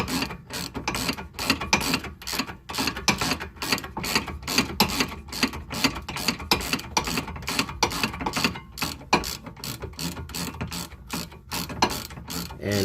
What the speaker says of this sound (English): I'm just going to ratchet that off